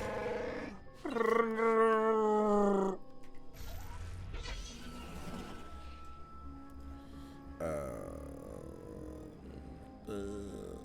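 A large dog-like creature in Star Wars: The Old Republic lets out a deep, rumbling growl in several bursts of differing length, with other game noises between them.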